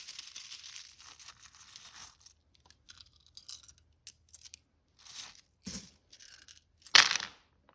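Small charms shuffled and mixed by hand make scattered rustles and light metallic clinks in short bursts, ending in a sharper, louder clatter.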